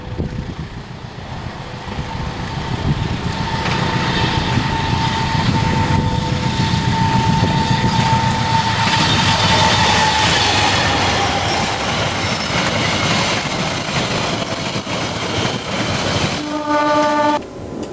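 A locomotive hauls the Logawa passenger train with its stainless steel next-generation carriages, a loud continuous rumble and rolling wheel noise that holds steady for most of the run, with a sustained horn-like tone near the end.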